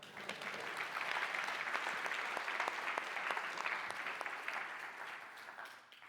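Audience applause at a tech conference talk, steady dense clapping from a sizeable crowd in a hall, holding level for several seconds before gradually thinning and fading at the end.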